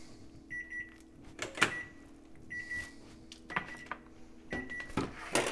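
Oven door opening and closing with clanks and thumps as a batch of five bagels on parchment paper goes into a preheated home oven, beside a steady electronic beeping tone in a quiet kitchen.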